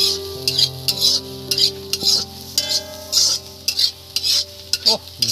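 Spice masala of ginger and garlic is stirred and fried in a large wok, heard as loud, close, rhythmic scraping strokes over a steady sizzle, with no voices and a faint steady hum underneath.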